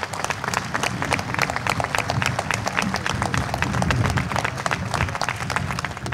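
An audience applauds at an anniversary celebration of the AVIS blood donors' association in Fano, with dense, sustained clapping from a crowd filling the room for several seconds.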